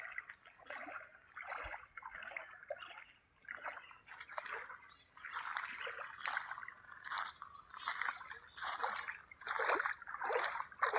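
An elderly woman walks through the shallow water of the Kuveri river, her feet making repeated soft splashes and sloshes in an uneven rhythm.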